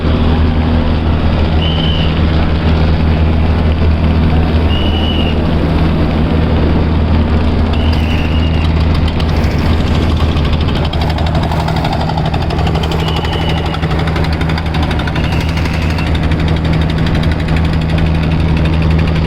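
Large Karnaphuli 12 passenger river launch, crowded with Eid travellers, departing Charfasson with its engine running: a loud, steady low diesel drone and hum throughout, with faint rumbling and occasional high tones from the surroundings.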